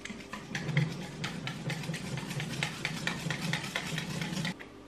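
A spoon stirs a chocolate cream mixture in a bowl, soft repeated scraping strokes in an irregular rhythm, quiet and close with no talking.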